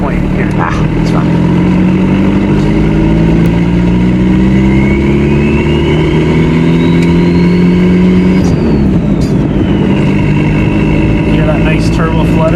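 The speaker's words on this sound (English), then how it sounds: "Hear that nice turbo flutter?" Turbodiesel engine of a 1989 Volkswagen Jetta TD Coupe pulling under load, loud continuous drone with rising pitch as it accelerates, then a drop as the throttle lifts and a fluttering whoosh from the turbo.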